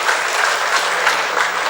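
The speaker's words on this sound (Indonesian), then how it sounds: "Beri tepuk tangan sekali lagi yang meriah kepada pemateri kita." Lively applause for the speakers at a women's seminar session, a dense, steady burst of clapping from a crowd, loud and close, with no talk over it.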